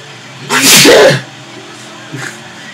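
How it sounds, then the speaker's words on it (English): A single loud sneeze bursts out close by during a Grand Theft Auto IV playthrough, followed by quieter background game sound and a brief faint voice. "Jesus, sneeze master."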